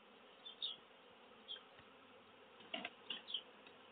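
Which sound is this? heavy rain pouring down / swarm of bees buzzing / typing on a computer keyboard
swarm of bees buzzing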